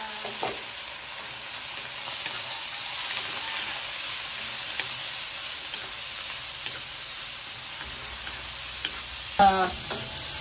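Bitter gourd sautéing in a pan with garlic and onion makes a steady, close sizzle with soft stirring scrapes, ending in a short louder clatter of utensil against pan.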